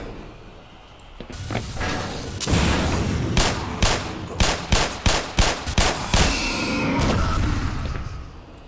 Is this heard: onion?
no